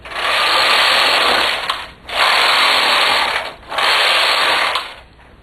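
A knitting machine carriage passes back and forth over circular rows in three loud, even mechanical whirring sweeps, each about one and a half seconds long with brief pauses between them.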